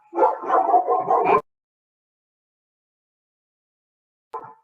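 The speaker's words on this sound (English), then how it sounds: "sorry, my dog is barking" A pet dog barking indoors at home: one drawn-out, loud bark or yowl near the start, then silence, then a short second bark near the end, with no speech.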